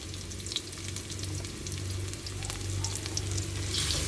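Washed pork for adobo sizzling loudly as it hits a hot pan, a steady dense frying hiss with crackling pops and occasional stirring scrapes, close and continuous throughout.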